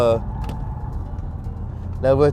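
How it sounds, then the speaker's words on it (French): Audi RS e-tron GT electric car on the move, a steady low rolling roar of tyres and road noise under someone speaking at the start and end. "on entend le bruit d'électrique, beaucoup de bruit de roulement, beaucoup de bruit de pneus"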